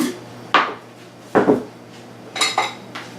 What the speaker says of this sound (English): take my pan, put it on